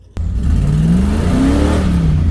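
A Ford E350 van with a 5.8-litre engine starts with a sudden onset into a loud, close engine drone, the pitch climbing in two rising rev sweeps, with no talking.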